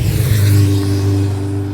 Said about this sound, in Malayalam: ഡുക്കാട്ടി ബൈക്കാട്ടോ.